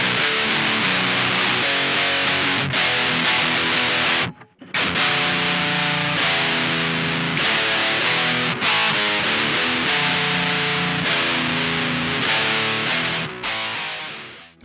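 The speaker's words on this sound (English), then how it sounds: "we're going to put it into drop B with the Digitech drop" A distorted electric guitar plays heavy metal riffs, tuned down to drop B through a Digitech Drop pedal, with loud chugging chords that break off briefly partway through before continuing.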